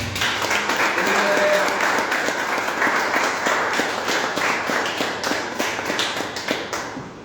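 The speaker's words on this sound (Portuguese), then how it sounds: "Agora ele das palmas" A church congregation claps hands together during a celebration service, a dense, steady wash of applause lasting several seconds at close range and gradually easing near the end.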